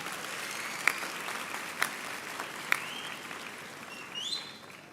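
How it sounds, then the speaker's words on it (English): At a UFS university graduation ceremony, the hall audience applauds softly and from a distance, a thin even patter of many hands with a few sharper single claps standing out and faint high chirps near the end. "I'm asking our graduates to give all of your family members a round of applause for their contribution"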